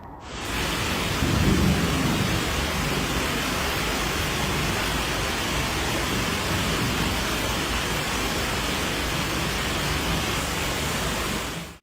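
Heavy rain during an intense thunderstorm over New Jersey and New York City, a dense, unbroken roar of downpour at steady loudness with a low rumble early on, continuing for about twelve seconds before cutting off.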